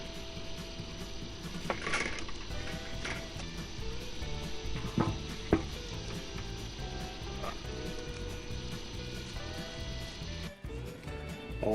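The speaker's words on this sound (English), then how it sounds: "Oh man, we're sizzling up nicely in there." Bacon sizzles on a grill with a steady, dense crackling hiss and scattered sharp pops, heard close and alone throughout.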